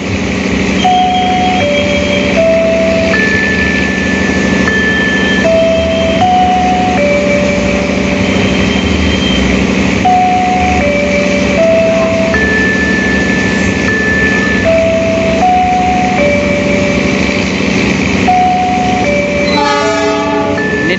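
On a busy platform at Kertosono railway station in Indonesia, a loud melodic chime repeats its simple note pattern over a steady rumbling hum, with a brief flurry of rapid tones at the end.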